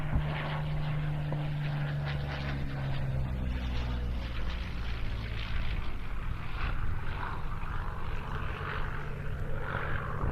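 A Curtiss P-40 fighter flies at the IWM Duxford airshow. Its propeller engine drones continuously with a rising and falling tone as it passes at moderate distance, with no voices over it.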